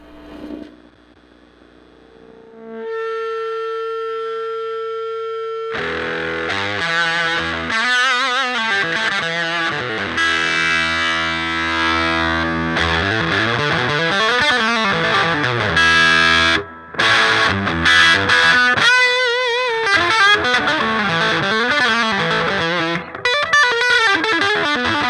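A vintage guitar amp with every knob turned fully up, played in heavy overdrive: a quiet opening note swells into loud, sustained distorted chords and ringing notes that carry on almost continuously, with one brief drop near the middle.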